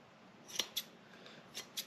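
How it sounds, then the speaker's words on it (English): Scissors snip through the frayed edges of shearling wool pads, giving four or five crisp, separate cuts spaced irregularly, close to the mic and against a quiet room. "All I do is take these scissors and I trim them down"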